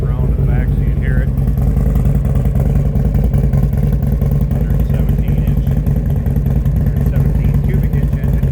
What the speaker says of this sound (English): Slip around to the back so you can hear it.